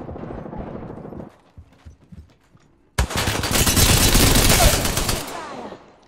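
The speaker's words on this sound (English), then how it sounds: "quit shooting at me" Video game gunfire: a sparse run of shots at first, then a sudden loud, dense, sustained burst of automatic fire lasting about three seconds before tapering off.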